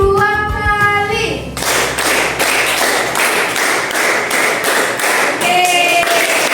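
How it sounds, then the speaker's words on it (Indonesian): A teacher's voice gives way to a classroom of students clapping their hands together in unison, a run of sharp, evenly spaced claps repeated steadily and loud, with a few voices rising again near the end. "Semuanya harus tepuk tangan. Bisa? Bisa. Tepuk tangan 5 kali, 2 kali."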